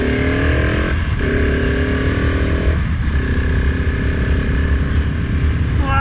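A 2020 KTM 690 SMC R single-cylinder motorcycle is ridden at steady speed, its engine droning loudly under heavy wind rush, with brief pitch drops around gear changes or throttle lifts.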